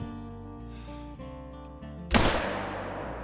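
A single loud rifle shot fired at a deer in a hunting video game cracks out sharply after a quiet, humming stretch, then trails off in a decaying echo.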